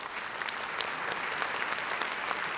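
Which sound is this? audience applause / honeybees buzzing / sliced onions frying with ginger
audience applause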